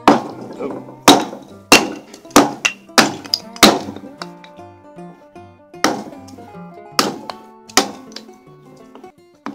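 Sharp metallic strikes, the back of a hammer hitting a fire starter repeatedly at an uneven pace, each blow ringing briefly, close and loud.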